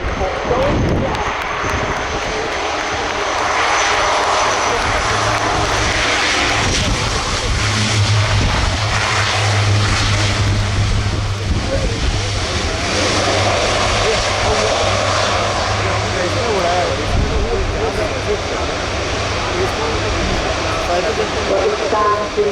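Fixed-wing aircraft engine roaring steadily during landing at the RIAT air show, a loud sustained drone with a low hum beneath, while a commentator talks over it on the public address.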